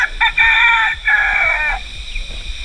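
Roosters crowing among other chickens in Cebu, Philippines, with two long loud crows close by in quick succession, followed by quieter clucking and farmyard background.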